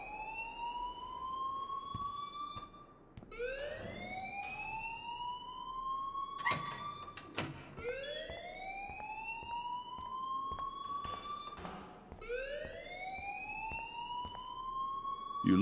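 A fire alarm rings in the video game Life is Strange, a loud, repeating whooping siren that rises in pitch, with rising sweeps every couple of seconds and some brief clatter between them.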